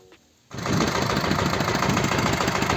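A small walk-behind motor tractor rigged with a plough sits idling in a field; after a brief quiet moment its engine runs up to a loud, steady, rattling chug that continues alone.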